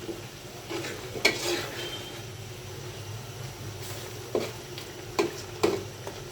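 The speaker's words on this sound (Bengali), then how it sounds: "একটু ধুইনা পাতা কাঁচা জল দিয়ে দিলাম নাড়াচাড়া করে দিই" Shoal fish and beans fry in a pan as a spatula stirs them, giving a steady low sizzle with a few sharp scraping knocks, close and without talk.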